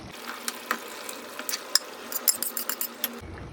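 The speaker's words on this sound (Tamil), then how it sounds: "இதில் மட்டன் ஆட் பண்ணிடலாம்" Wet splashing and bubbling as mutton chunks drop into a pot of simmering gravy, with scattered clinks and sizzles over a steady liquid hiss.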